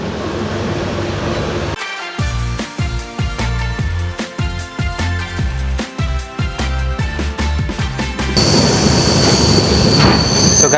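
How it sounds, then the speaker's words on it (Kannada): A passenger train on the Bengaluru to Ankola route pulls away, with loud rhythmic wheel clatter over rail joints and metallic squeals building up, close and steady without voices. "ಇವಾಗ ಟ್ರೈನ್ ಹೊರಡ್ತಾ ಇದೆ"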